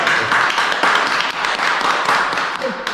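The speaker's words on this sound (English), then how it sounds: "Didn't hesitate. Give it a applause." Wedding guests applaud a couple after their vows, a steady stretch of hand clapping from a group of people, fairly close and even in loudness for the whole moment.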